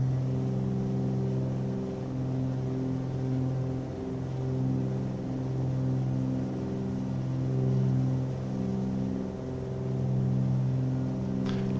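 The twin engines of a Cessna 414 in a flight simulator give a steady, loud, droning hum with layered tonal harmonics. The drone swells gently now and then and runs unbroken throughout, with no speech.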